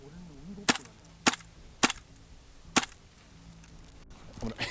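Airsoft guns fire during a game in Japan, giving four sharp, dry cracks about half a second to a second apart over quiet outdoor background, with faint voices nearby.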